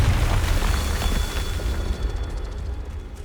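A Confringo spell explodes in the video game Hogwarts Legacy with a loud, deep booming burst that trails off into a rumbling fade.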